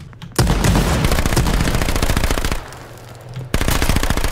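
Automatic gunfire in the video game H1Z1 rattles out in loud, rapid close bursts, one long stretch of fire, a brief lull, then another burst starting up.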